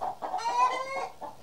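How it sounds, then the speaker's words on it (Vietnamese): A flock of cartoon chickens clucks in quick, close bursts, several overlapping squawks packed into about a second and a half, with no talking over them. "sao hôm nay đàn gà kêu ầm ĩ lên thế nhỉ?"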